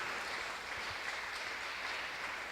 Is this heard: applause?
yes